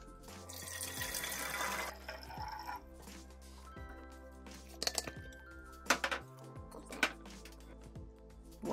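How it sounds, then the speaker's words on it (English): A SodaStream bottle is filled from a kitchen tap: a brief burst of running water, then a few hard thunks and knocks as the bottle is handled, with no speech. "First, fill up with water."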